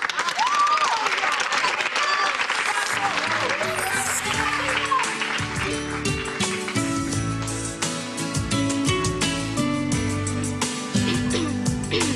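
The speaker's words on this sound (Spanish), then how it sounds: "Pueden aplaudir si quieren" A classroom audience claps and cheers for a singer, dense applause with voices that soon mixes with and gives way to a piano-backed song playing over it.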